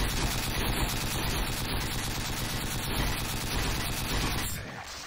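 Sustained, dense gunfire from the player's weapons in Doom II, a loud continuous barrage that drops away in the final half second.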